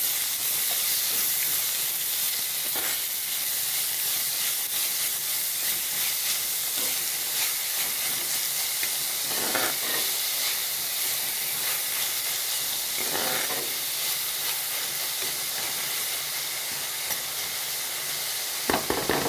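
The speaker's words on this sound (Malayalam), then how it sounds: "ഇനി നമുക്ക് ഒന്ന് ഇളക്കി കൊടുക്കാം" Sardine chili curry stirred in a pan, giving a continuous loud sizzling hiss with steam and occasional scraping knocks of a spoon against the pan.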